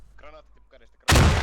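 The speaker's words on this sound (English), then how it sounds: "Oh, but gets his grenade out at the wrong time." A grenade goes off in a military shooter game with one sudden loud blast after about a second, its roar filling the rest of the moment. Brief voices and game sounds come before it.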